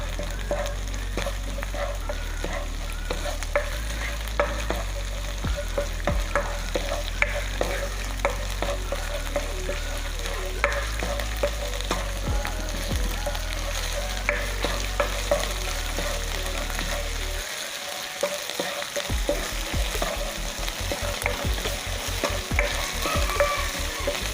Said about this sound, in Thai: ไฟเริ่มร้อนแล้วนะคะ ผัดพริกแกงให้หอมก่อนเลยค่ะ